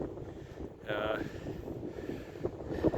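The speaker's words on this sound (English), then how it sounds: "It's really windy, especially up in this new apiary." Steady wind gusts rumble against the microphone at a hilltop apiary, a continuous low buffeting with a brief tonal whine partway through.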